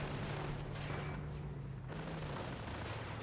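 Dense battlefield gunfire rages in the Company of Heroes video game, with a continuous rumbling fusillade of rifle and machine-gun shots and low booms filling the whole stretch at an even, heavy level.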